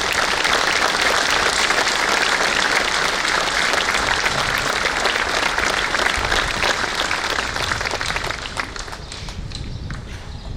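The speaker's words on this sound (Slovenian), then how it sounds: "Dajmo za vse skupaj drugemu aplavz." Loud, dense applause from a large crowd at an outdoor military oath ceremony on a town's main square in Vipava, steady throughout and easing slightly toward the end.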